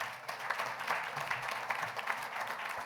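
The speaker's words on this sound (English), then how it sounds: "Can you give a warm welcome to Councilman Mark Alwinski of the First District?" An audience at a mayor's community night gives a warm round of applause to welcome a city councilman, steady clapping from a crowd heard across the whole moment with no talking.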